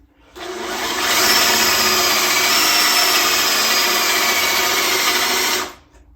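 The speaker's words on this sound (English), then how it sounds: "I'll drill from this side right here." A power drill whines loudly and steadily as it bores into wood, starting abruptly and stopping after about five seconds.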